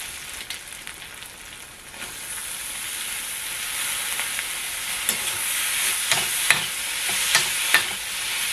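Wood-ear mushrooms fry in a pan with a steady, bright sizzle while a utensil stirs them, and a few scraping strokes stand out toward the end.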